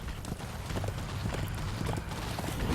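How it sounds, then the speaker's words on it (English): Despair, the horse in the video game Darksiders 2, galloping: rapid, continuous hoofbeats thudding close and loud over a dense game soundscape, with no talking. "Come on, get the horse back up here."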